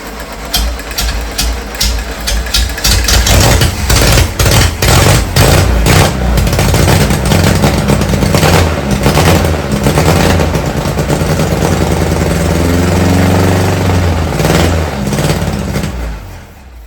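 Freshly installed VW Beetle engine coughs and pops as it fires, catching into a loud, uneven running clatter with rapid sharp bangs, then smoothing into a steadier idle before fading near the end.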